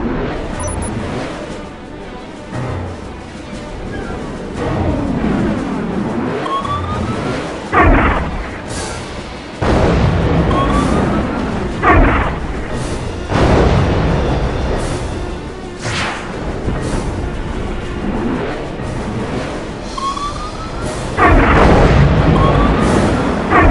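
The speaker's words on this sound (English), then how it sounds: "Release the fire button to launch 6 high-speed missiles at your enemy." Six high-speed missiles launched from an advanced weapon system in the combat flight video game Rebel Raiders: Operation Nighthawk, giving repeated heavy booms and sharp bursts over a steady, loud roar of engine noise and game sound, with no talk.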